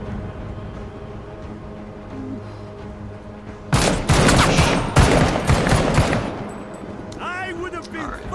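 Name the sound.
grenade launch and gunfire in a video game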